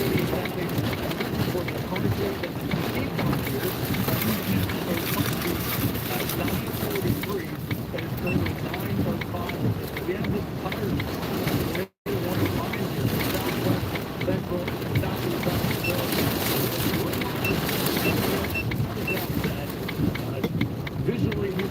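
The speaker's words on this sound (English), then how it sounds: "Lots of wind here" Strong wind while storm chasing in Oklahoma, a steady, loud roar and buffeting across the microphone that continues unbroken, with one brief dropout midway.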